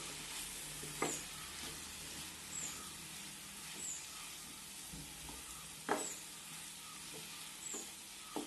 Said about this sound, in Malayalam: ഇത്രയും ചേർത്ത് നന്നായി ഇളക്കണം